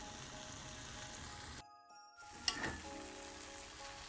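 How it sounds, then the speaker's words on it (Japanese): Raclette cheese, a Swiss hard cheese, sizzles steadily in a hot frying pan. The sizzle drops out for a moment, then returns with a small metallic clink and settles back into a soft, even frying hiss. "フライパンで40秒ぐらい熱します。"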